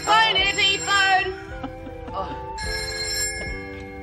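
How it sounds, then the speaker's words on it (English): A telephone bell in a home rings loudly in bursts while people's voices overlap it, with a quieter stretch before the ringing returns strongly. "Cheers, phone, Eddie, phone."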